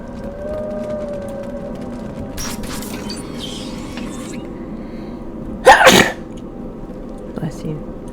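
One loud, sharp sneeze bursts out partway through in a Mass Effect 2 dinner scene, preceded by quieter game sounds and a throaty noise, with a faint small sound afterward.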